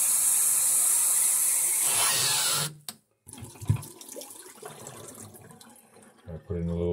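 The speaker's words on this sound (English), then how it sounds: "So I'm going to rinse out the bottle" Water from a tap rushes loudly into a bottle being rinsed, then cuts off, followed by quieter sloshing, clinks and handling sounds nearby.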